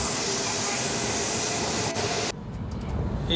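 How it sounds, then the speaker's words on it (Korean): Inside a Shinkansen bullet train bound for Osaka, a steady rumble and airy hiss fill the cabin. Partway through, the sound shifts abruptly to a slightly quieter, duller tone. "오사카행 신칸센에 오른 부부."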